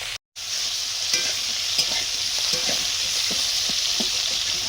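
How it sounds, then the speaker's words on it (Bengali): Bitter gourd fries in a pan, a steady hissing sizzle under repeated scraping strokes of a stirring spoon, close and fairly clear, after a brief silent gap at the start. "করলাটা ভেজে নিচ্ছি এখন।"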